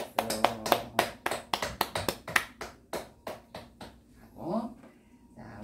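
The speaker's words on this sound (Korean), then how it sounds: "영광의 박수 한번 하겠습니다" A church congregation at worship claps in rhythmic unison, a run of sharp, evenly spaced claps that then stops, and a voice speaks near the end.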